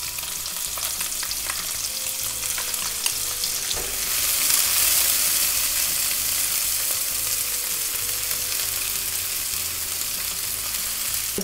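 Chopped spring onion fries in a pan for a stir-fried rice dish with vegetables and sausage, a steady close sizzle that swells loudly midway as the pan is stirred.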